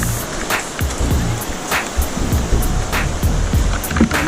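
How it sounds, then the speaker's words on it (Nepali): The swollen Kateri stream rushes beside the flooded Trishuli river, a loud, constant roar of churning water with scattered splashes and thuds close by. "यो सानो खोला कटेरी खोला यति धेरै बढ्यो"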